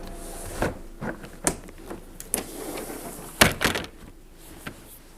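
A double-glazed window door in a vertical townhouse kitchen slides and shuts, giving a series of sharp knocks and rattling thuds, loudest near the end, with no talk.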